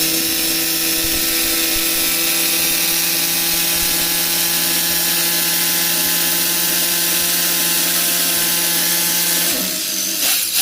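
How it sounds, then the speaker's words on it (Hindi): A rotary hammer drill in drill-plus-hammer mode bores into hard stone with a loud, continuous grinding whine and rapid hammering rattle, steady throughout and close, with no talk. "यहां पर आप देख सकते हैं कि 9 सेकंड के अंदर पूरा ड्रिल हो गया"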